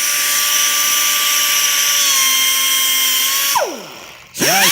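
Grinding wheel cutting into metal on a 1965 Volkswagen Bus, a loud steady high whine with a constant pitched tone that sags and drops sharply near the end as the wheel bites, then spins back up.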